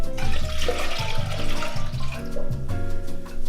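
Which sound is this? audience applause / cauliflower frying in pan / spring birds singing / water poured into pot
water poured into pot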